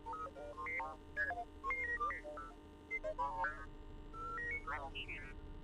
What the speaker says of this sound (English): there's a series of low official whistles and beeps. It sounds as if there is a utility droid on the other end